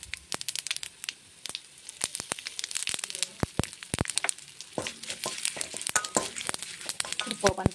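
A reddened tempering sizzles in hot oil as asafoetida goes in for gongura pachadi, with irregular crackles, pops and spoon scrapes close by over a low frying hiss.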